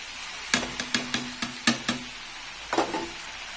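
Fried cabbage is stirred into vegetable chow mein noodles in a pan, giving a series of sharp utensil knocks and scrapes, about six in quick rhythm then a short cluster, over a faint sizzle with no talk.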